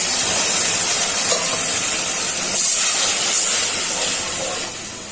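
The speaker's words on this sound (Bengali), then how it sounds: "মশলাটা কষানো হয়ে গেছে, হালকা একটু ঝোল দিয়ে দিচ্ছি।" Broth is added to a fried spice paste in a hot pan for an egg korma, producing a loud, steady steam-like hiss that fills the whole moment close up and tails off slightly at the end.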